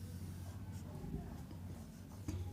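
Faint scratchy marker strokes on a board during a matrix lesson, a few short irregular scrapes over a low steady background hum.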